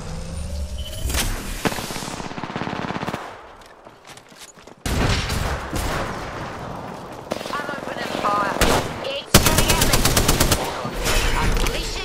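Automatic weapons fire in the video game Apex Legends in long, loud, close bursts, with a brief lull before the shooting resumes over game sounds and a character voice.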